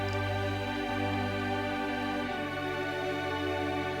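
Sustained string tones with a delay effect smearing each note into a full, lingering wash, steady and loud throughout.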